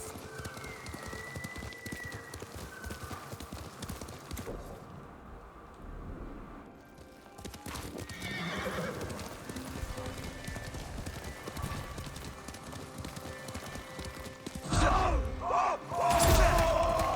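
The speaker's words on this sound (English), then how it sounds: "Where's my horse? There's my horse." A horse in a video game trots with steady clip-clop hooves through most of the stretch, then lets out a loud neigh near the end, with no speech over it.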